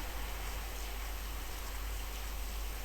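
Dense, even rain noise fills the whole stretch, a constant hiss with no talking.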